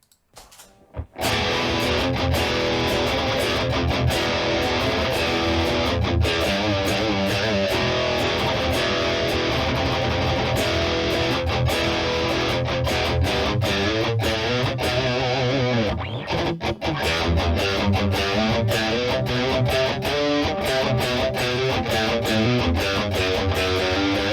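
High-gain distorted electric guitar played through an Abasi Concepts Space T pedal, a dense, loud, chugging riff starting after a brief silence, with a short break midway before the heavy playing resumes.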